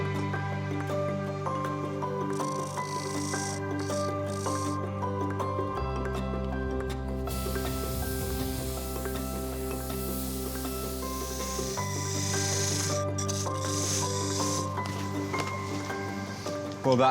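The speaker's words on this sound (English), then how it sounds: "I'm now going to turn in 4 grooves to separate the 4 pieces." A spinning wood lathe hums steadily with a tonal drone while a cutting tool turns grooves into a wooden workpiece in a repair workshop, giving a continuous scraping rub that shifts pitch as the cut changes.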